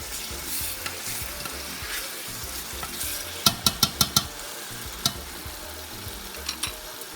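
Spices toss and fry in a pan of oil while cooking Nigerian jollof rice, a continuous sizzle under a string of sharp scraping and tapping clicks from stirring, close and moderately loud.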